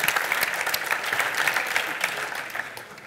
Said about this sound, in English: Another big applause for Thierry.